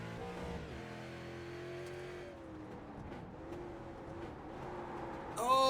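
A street stock race car in the iRacing video game holds a steady engine drone, its pitch sliding down as it downshifts, then a sharp rise in noise at the very end.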